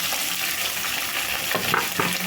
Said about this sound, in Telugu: ఉల్లిపాయ ముక్కలు లైట్గా వేగితే సరిపోతుందండి